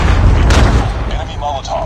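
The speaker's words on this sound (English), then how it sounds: "Friendly Predator missile inbound." Predator missile strike in a Call of Duty Mobile match, a single heavy boom with low rumble at the start that fades over about two seconds, with a voice callout over it.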